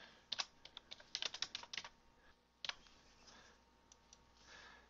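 Someone types on a computer keyboard with quick, light bursts of close keystrokes, a short pause, then a few more scattered clicks at low volume.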